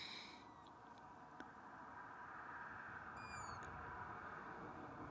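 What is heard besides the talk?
owl calling at twilight on the Yorkshire Moors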